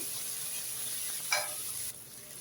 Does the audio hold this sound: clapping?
no